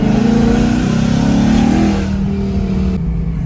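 A tuned Ford S550 Mustang accelerates hard. Its engine revs loudly and climbs in pitch, then settles into a steady, strong drone close by.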